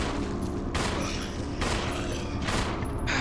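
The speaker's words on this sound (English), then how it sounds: "Just shoot him." Gunshots in Resident Evil Remake, played as Jill on the Wii, boom out loud and close in a slow, evenly spaced series of four heavy blasts.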